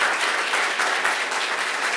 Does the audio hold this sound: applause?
yes